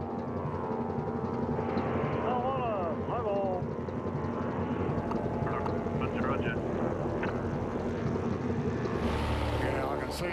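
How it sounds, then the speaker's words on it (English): A tuna-spotting plane flies overhead at sea, its engine a steady loud drone that fills the whole stretch under a narrator's voice. "The spotter plane has located a solid 20-ton patch, 18 metric tons."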